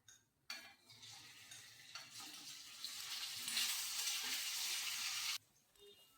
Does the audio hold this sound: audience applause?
no